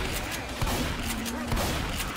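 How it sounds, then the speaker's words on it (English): A shotgun fires in the zombie shooter Left 4 Dead 2, with a loud game-mix blast among constant dense in-game noise and gunfire. "I sniped her with the shotgun!"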